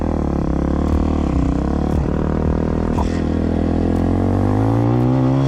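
Cheap Walmart 250cc EFI dirt bike being ridden on paved and gravel roads, a loud continuous engine drone with shifting pitch as it revs and settles, wind rush throughout, no talking.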